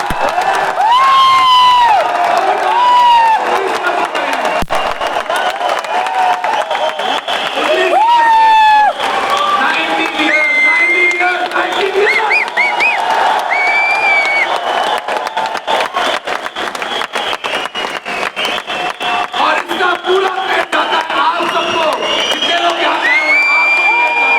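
A large standing audience at a company event in Thyagraj Stadium, New Delhi, applauds and cheers loudly, with whoops, shouts and whistles rising over sustained clapping from a big crowd filling the hall.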